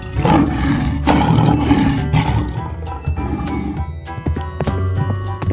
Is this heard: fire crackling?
no